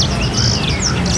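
A caged songbird for sale at an Indonesian bird market chirps loudly and close, giving a quick run of bright, sliding tweets over steady background noise.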